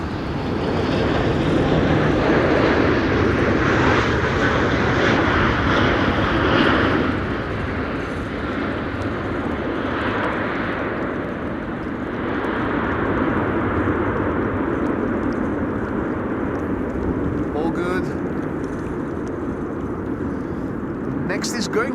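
Airliner jet engines roar loudly at windy Amsterdam Schiphol Airport, a broad sustained rumble that swells early on, eases slightly, then holds steady; wind noise runs throughout.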